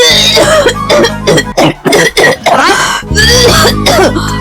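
Several harsh human coughs and throat-clearing sounds in quick bursts, loud and close, separated by short pauses.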